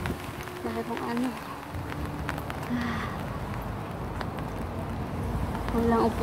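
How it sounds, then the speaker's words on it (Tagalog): Rain falls steadily along a seaside walk near Hung Hom, a soft continuous patter under occasional faint voices and scattered footsteps. "May ulan."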